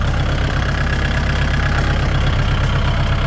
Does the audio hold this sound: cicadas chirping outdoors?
no